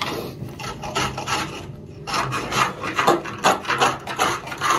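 A scraper rasps against a shower tray as old silicone sealant is stripped away, giving a close, gritty scraping in short repeated strokes with a brief pause partway through, and no one speaking.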